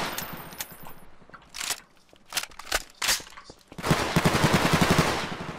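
Gunshots in the Garry's Mod video game: several sharp separate shots followed by a rapid burst of automatic fire, loud and close with no talk over them.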